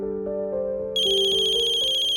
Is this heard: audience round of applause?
no